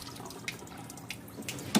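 Cold water runs from a tap in a steady, faint splashing stream with a few brief drips and a slightly louder spatter at the end.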